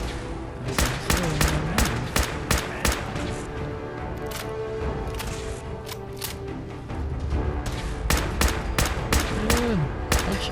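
Rapid gunfire from the video game Fallout 4, a burst of sharp repeated shots in quick bursts across the whole stretch, loud and close, with a couple of brief voice sounds in between.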